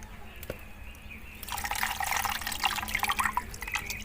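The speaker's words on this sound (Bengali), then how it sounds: "জল দিয়ে ধুয়ে নেব, একবারই ধোবো কিন্তু" Rice washed with water in a bowl for honey payesh: a quiet hum at first, then close, steady sloshing, splashing and dripping water for the rest of the clip.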